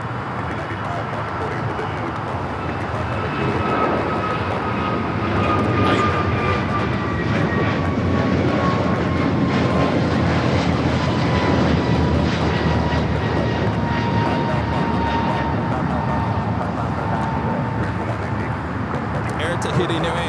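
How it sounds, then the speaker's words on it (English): A Boeing 777-300ER airliner arriving at LAX makes a sustained jet roar with gliding whining engine tones that slowly descend in pitch, loud and steady for the whole stretch, with voices talking over it. "Do have a 777 at 300ER arriving on the north side as well."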